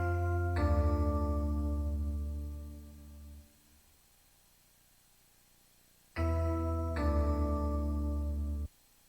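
A dark, ringing bell sample in a UK drill beat made in Cubasis 3 strikes twice, each tone sustaining with rich harmonics for a few seconds before cutting off, loud and alone with quiet gaps between.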